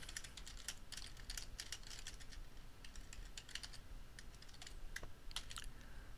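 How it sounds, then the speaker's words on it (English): Rapid, light clicking of a computer keyboard in quick bursts, faint and close, with a low background hum and no voices. "When I finish typing, I can send the message by hitting enter."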